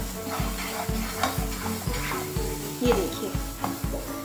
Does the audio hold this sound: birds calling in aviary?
no